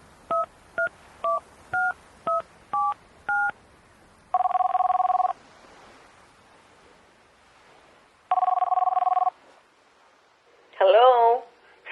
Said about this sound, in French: Je prends une petite pause de mon organisation logistique et je téléphone à Janice.